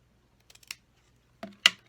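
Scissors trim the ribbon tails of a knotted bow on a handmade card, with a few light clicks followed by two crisp, close snips in quiet surroundings.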